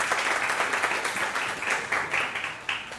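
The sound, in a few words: audience applause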